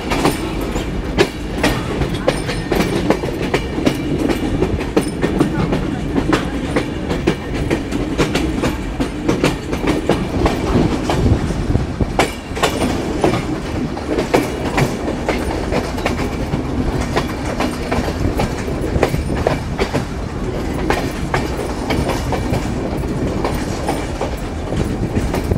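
The Madhumati Express, an intercity train with LHB coaches, pulls out of Rajshahi railway station, with loud steady wheel rumble and rhythmic clickety-clack over rail joints heard from on board.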